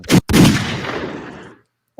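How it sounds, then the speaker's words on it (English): Two sharp, loud gunshot-like blasts in quick succession, the second trailing off into a long fading echo before silence. "Gunshots."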